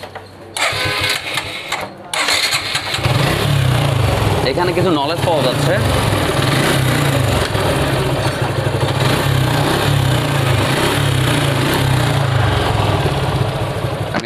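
A Suzuki Gixxer SF motorcycle with a worn timing chain starts up and settles into a close, steady idle with a rattling mechanical clatter. Someone speaks briefly over the running engine.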